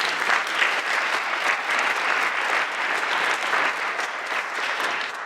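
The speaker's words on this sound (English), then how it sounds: "So a round of applause for Tyler." Sustained applause from a high school winter band concert audience in an auditorium, honoring the new technical director and auditorium manager; dense, even clapping holds steady for the whole stretch without talk.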